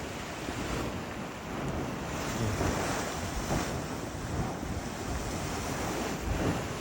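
Hot spring water bubbling and gushing at the Wairakei Terraces geothermal area, a steady broadband roar of churning water with wind buffeting the microphone, continuous and fairly loud throughout without any talk.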